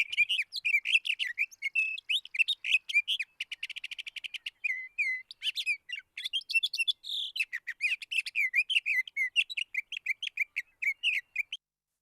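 A sage thrasher sings a long, continuous song of rapid, varied warbling phrases, clear and fairly close, with brief buzzy trills mixed in and no pauses.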